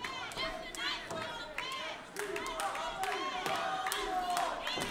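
A wrestling audience cheers for Bailey, loud mixed shouting and chanting voices swelling and rising in waves, with a commentator talking over the crowd noise.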